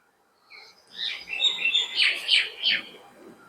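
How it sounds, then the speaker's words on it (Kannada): Birds chirping and calling outdoors in the early morning near Bannerghatta, a bright burst of overlapping tweets rising after a quiet start and continuing for a few seconds. "ನೋಡಲ್ ಪಕ್ಷಿ ಎಲ್ಲ ಕೂಗ್ತಾ ಇದೆ"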